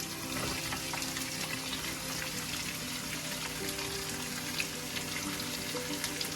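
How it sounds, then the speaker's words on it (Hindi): Sliced red and white onions fry in hot oil for a palak chicken dish, a dense, steady sizzle with crackling pops continuing evenly throughout with no talking. "Now you're gonna put the onions, the red onion and the white onion."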